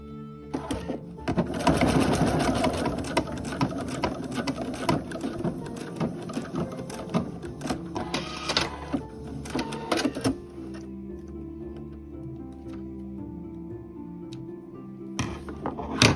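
A sewing machine stitches a tote bag, running steadily in a close, rapid mechanical whir for about ten seconds, then stopping to a quieter hum before a brief restart at the end.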